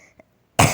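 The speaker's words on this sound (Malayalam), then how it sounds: "എൻ്റെ ചുമ അങ്ങനെ മാറിയിട്ടില്ല കേട്ടോ." A woman with a lingering cough gives one sharp, loud cough close by, after a brief quiet pause.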